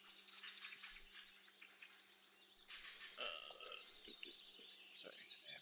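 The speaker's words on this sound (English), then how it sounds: "You're hearing, like birds chirping." Birds chirp and tweet steadily through a morning outdoor ambience, with dense high calls throughout, a few low croaking notes mixed in, and a faint constant hum beneath.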